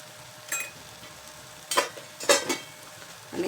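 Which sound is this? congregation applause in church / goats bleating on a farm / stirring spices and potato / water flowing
stirring spices and potato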